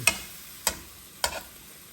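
Shrimp being stirred in a cooking pan, with three sharp metallic scrapes and clinks of the utensil spaced about half a second apart over a faint background hiss, close and without talk.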